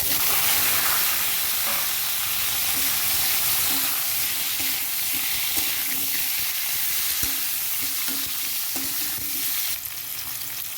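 Panch phoron spices crackle and sizzle in hot oil in a kadai, a continuous close hiss with scattered small pops and light taps, easing slightly near the end, no voices.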